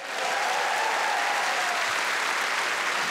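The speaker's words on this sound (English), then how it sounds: "Throw a round of applause for our front row." A stand-up comedy theatre audience applauding the front row, a broad, even roar of clapping hands that carries on steadily from start to finish.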